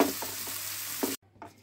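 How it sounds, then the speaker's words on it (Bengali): Onions fry in hot oil for a home-cooked doi keema, giving a short steady sizzle with a few stirring scrapes before it cuts off abruptly. "পেঁয়াজটা ভাজা হয়ে গেছে"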